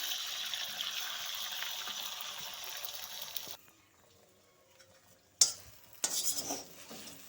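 Egg fries in a pan with vegetables, a soft continuous sizzle with stirring that drops to near silence, then sharp utensil scrapes and clinks against the pan return with renewed sizzling.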